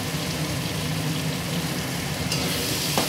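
Prawn khichdi being stirred in a pan with turmeric and cumin powder, a steady close sizzling and scraping that runs throughout with no voices, and a brief louder clink near the end.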